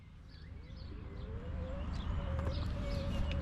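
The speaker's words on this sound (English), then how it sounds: "All you can hear is birds chirping" Birds chirp and call faintly in open New Zealand countryside with lots of vacant land, thin tweets scattered over a steady low rumble of wind or a moving scooter.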